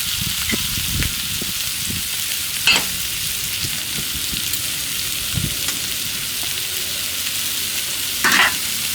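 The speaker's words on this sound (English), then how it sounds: "Nothing wrong with a little shrimp and desert gold on the griddle." Shrimp and buttered desert gold bread fry on a flat-top griddle, a loud, steady sizzle with a few faint scrapes and clicks, close up and without talk.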